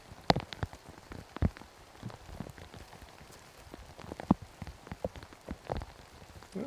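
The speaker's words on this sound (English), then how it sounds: "the rain is picking up as well" Rain falls steadily during a college disc golf national championship final, with scattered louder drops and splashes popping irregularly over a soft continuous patter, fairly close and alone without talk.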